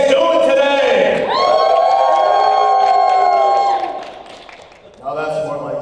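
A convention panel audience at Boston Comic Con cheering and whooping loudly, a dense roar that swells and holds for a few seconds, then drops off before a voice speaks over the tail end.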